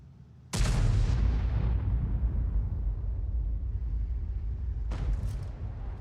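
FV3805 artillery fires tank shells in a video game: a heavy, booming shot with a long rumbling tail, then a second sharp blast a few seconds later, both loud and close.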